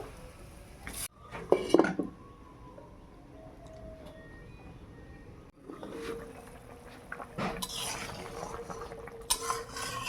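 Fried lentil fritters dropped into a pot of sour mixed-vegetable curry, giving a few sharp splashes and clatters near the start and later, with low sizzling and stirring in between; no one speaks.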